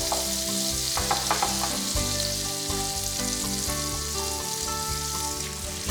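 Banana roti dough frying in a hot pan with vegetable oil and shortening, a steady close sizzle and crackle of frying Thai street-food pancake, continuous and loud without pauses.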